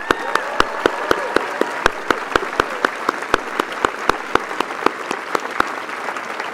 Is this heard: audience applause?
yes